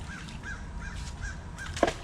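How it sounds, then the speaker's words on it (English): Crows cawing beside a creek with thorny brush, several short caws in a steady series at moderate distance, followed by one louder, sharper call near the end; no voices. "oh, the crows are here."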